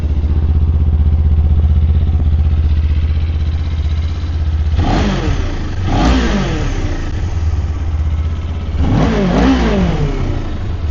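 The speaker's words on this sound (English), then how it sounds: "Let's rev it." A 2025 Kawasaki Ninja 500 SE motorcycle engine idling steadily, then revved sharply three times in short bursts that rise and fall, loud and close.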